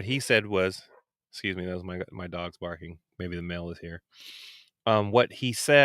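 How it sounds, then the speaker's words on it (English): A dog barks briefly in a home while someone talks almost continuously; the barking is short and sits in a gap between his words. "that was my dog's barking"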